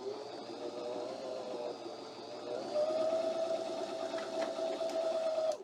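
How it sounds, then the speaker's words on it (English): Sewing machine winding a bobbin, a steady mid-pitched motor whir that rises and holds a higher, louder hum partway through, with no talking. "I'm going to quickly fill my bobbin"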